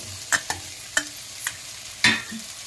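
Capsicum and tomato cooking in a pan for capsicum rice, with a soft sizzle under several sharp scrapes and clacks of a spoon stirring against the pan.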